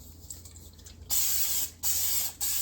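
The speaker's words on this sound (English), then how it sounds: "Spray the slow cooker just with some canola oil." Three short hissing bursts of a canola oil cooking spray can into a slow cooker, close up, separated by brief pauses over a faint background hum.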